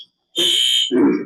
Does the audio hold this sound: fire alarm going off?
yes